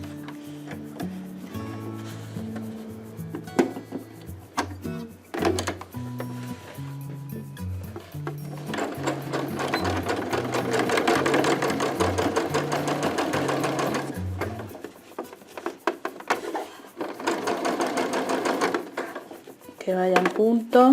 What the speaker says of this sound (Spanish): Bueno, voy a coser esta parte